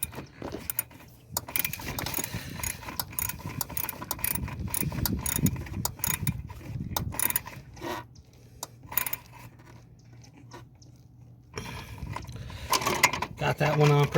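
Hand ratchet clicking in bursts while snugging a brake master cylinder nut on a 1996 Honda Civic, close and fairly quiet, with short mechanical ratcheting runs separated by pauses and light handling noise.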